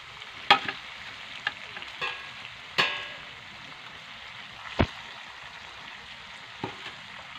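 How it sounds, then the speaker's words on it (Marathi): Bell pepper and gram flour in a little oil are sautéed in a pan: a few sharp spatula clicks and scrapes at uneven intervals over a faint, quiet sizzle, close by with no talking. "आणि हे चांगलं परतून घ्यायचं बेसन ढोबळे मिरचीत."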